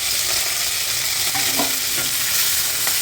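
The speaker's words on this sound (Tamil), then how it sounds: "ஒரு தக்காளி இதில் வந்துட்டு போட்டு வதக்கிடுவோம்" Tomato sautéing in a pan for a ground-masala chicken curry, a constant loud sizzle with occasional scraping stirs and soft knocks, no voices.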